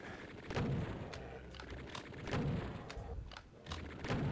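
A chaingunner enemy in Doom 2 firing in the game, bursts of rapid gunfire and booming shots repeating in clusters, fairly faint with no talking.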